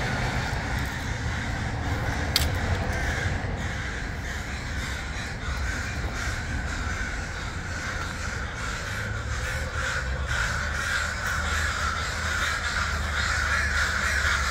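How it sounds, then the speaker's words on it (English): Crows caw continuously while mobbing an eagle outdoors, their calls layered over a steady broadband roar that resembles distant aircraft or wind, fairly loud and constant throughout. "that's why all the crows are trying to save him"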